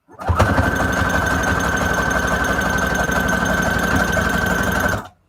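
A sewing machine runs a steady straight stitch through fabric scraps for a junk journal cover, a continuous close mechanical whir that holds an even pace for about five seconds before stopping.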